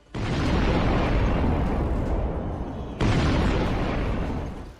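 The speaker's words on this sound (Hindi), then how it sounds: "रक्षान इलाके में आईईडी धमाका" A loud, sustained roaring blast of broadband noise from an IED explosion in Balochistan, Pakistan, holding for about three seconds, cutting off, then surging again just as loudly.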